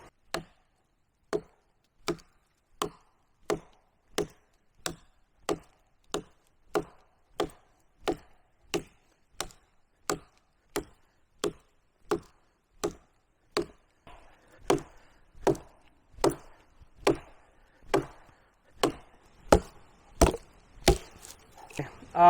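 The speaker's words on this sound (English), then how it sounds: "let's go ahead and chop some wood" Firewood chopped outdoors with a hammer-edged survival knife: about two dozen sharp, evenly spaced wooden thwacks, crisp and close, coming slightly faster and louder toward the end, with no voices.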